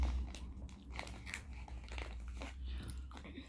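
Someone chews a chocolate chip cookie truffle, dark chocolate with crunchy cookie pieces, close to the microphone. Soft, steady crunching and mastication go on quietly throughout, with no speech.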